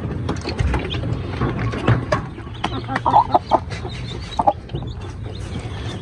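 Chicks and hens cluck and peep close by, with a busy run of overlapping calls and soft mechanical rattles underneath.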